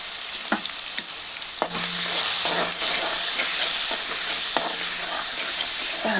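Kharda chutney paste with a pinch of turmeric sizzles in hot oil, a few sharp clicks at the start giving way to a loud, continuous frying hiss with occasional utensil taps, close-up.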